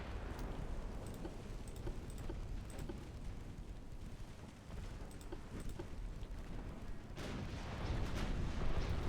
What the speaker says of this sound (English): Fire all guns.